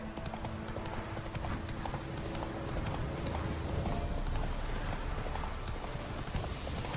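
Horse hooves clip-clop steadily in The Witcher 3 game, a continuous rhythmic trotting under a busy game soundscape with a faint low hum, no talk over it.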